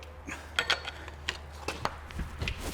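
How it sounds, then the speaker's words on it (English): Flywheel of a Citroen C5 being turned by hand during clutch replacement, giving a series of short metallic clicks and ratcheting knocks spread irregularly over a low steady hum, close up with no talk. "See if I can move the actual flywheel"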